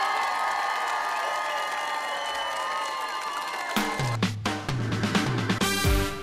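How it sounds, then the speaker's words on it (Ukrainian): A crowd at a village karaoke show in Krakivets applauds and cheers, a broad steady wash of clapping and shouts, followed by music with a beat coming in. "Ваші бурхливі оплески зустрічаємо."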